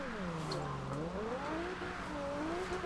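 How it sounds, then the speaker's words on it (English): In Forza Horizon 2, a Nissan 370Z with a twin-turbo VQ V6 drones at a low, steady hum, its pitch rising and falling gently under a voice. "V6 sounds fucking amazing."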